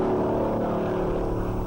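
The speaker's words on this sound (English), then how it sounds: "the quiet Carolina countryside echoes to the mighty roar of his engine" A 1950s stock car engine drones steadily at the 1957 Darlington Southern 500, a continuous low, rough roar held at an even level throughout.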